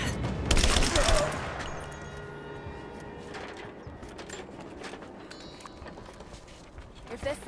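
Gunfire in a firefight in the video game Rise of the Tomb Raider, a loud dense burst of shots up front that then thins into scattered bangs and footstep-like clatter under game voices.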